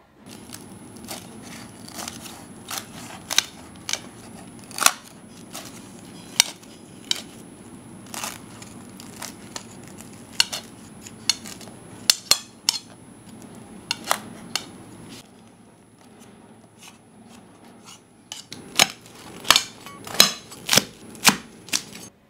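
A chicken Rangooni keema paratha is cut on a board: a series of sharp knife chops and clacks, some loud and close, with a brief quieter stretch before a final quick run of cuts. Nobody speaks.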